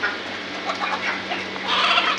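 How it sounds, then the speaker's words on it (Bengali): Desi chickens cluck and squawk at a busy poultry market, the calls fairly close over a constant background hum and market bustle. "দেশি মরগ"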